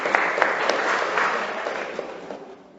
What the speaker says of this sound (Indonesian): Tepuk tangan untuk Ibu Ika.